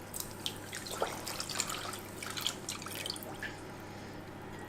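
Water pours and drips into sugar for a syrup, a faint, close trickle with scattered drips and light splashes across the few seconds.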